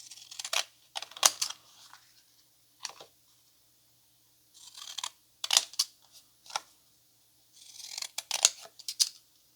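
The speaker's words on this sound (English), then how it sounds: "Cut it with my decollage scissors." Decollage scissors snip through paper in short bursts of crisp cutting, separated by pauses. The sound is close and moderately loud, with no talking.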